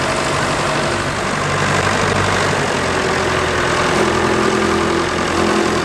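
A Case 2390 row crop tractor, American-built, idles at a vintage working tractor event in Nottinghamshire, its diesel engine holding a steady, loud, low rumble with an even mechanical chatter and no talk.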